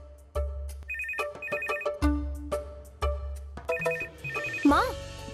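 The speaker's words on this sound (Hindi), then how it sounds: "ये फोन भी हमेशा बजते रहता है।" A mobile phone ringtone rings repeatedly in a home setting, a bright electronic melody repeating in short bursts over a rhythmic beat, fairly close and clear, with a brief voice-like sound near the end.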